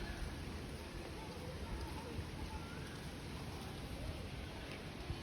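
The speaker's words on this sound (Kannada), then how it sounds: "ಮಳೆ ಬರ್ತಾಯಿದೆ ಹೊರಗಡೆಗೆ" Steady rain patters outside as a continuous dense hiss, fairly faint and unbroken.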